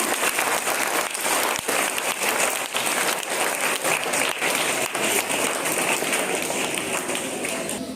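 A crowd at an Independence Day celebration applauds children with loud, sustained clapping, a thick, even rush of many hands lasting the whole time.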